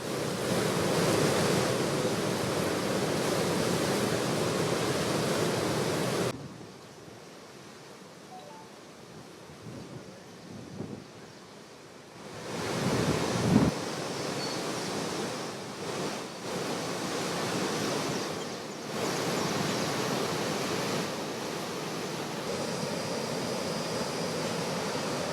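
Swollen Bhima river rushing after heavy rain, a loud broadband roar of flowing water with wind buffeting the microphone, dipping quieter in the middle before swelling back, no voices.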